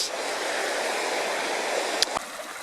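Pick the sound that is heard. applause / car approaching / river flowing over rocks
river flowing over rocks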